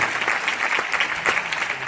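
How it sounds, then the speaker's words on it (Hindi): Close, enthusiastic applause from a crowd, continuous clapping throughout the short stretch. "तिवारी जी के लिए तालियां होनी चाहिए जोरदार"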